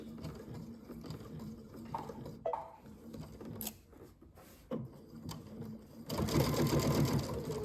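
A home sewing machine stitches a one-piece fabric bread bag at 2.5 mm stitch length, its motor whirring in short bursts with brief pauses and fabric handling, ending in a louder sustained run of rapid stitching.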